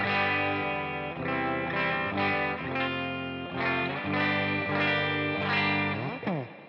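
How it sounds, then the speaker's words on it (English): Gibson Explorer electric guitar played on its bridge pickup through effects with chorus and distortion, sustained chords and ringing notes changing in a steady strummed rhythm, loud and alone. "Here's what the bridge pickup sounds like."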